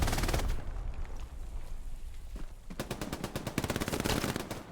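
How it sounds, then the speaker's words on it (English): Machine gun fire from an MG42 in the Eastern Front battle game Hell Let Loose, a loud rapid burst of close shots after a brief lull with rumbling combat noise underneath. "Lethal flying MG42"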